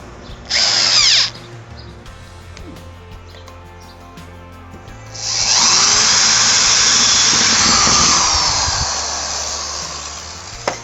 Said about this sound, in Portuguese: Vamos fazer um furo aqui do lado com a broca para metal.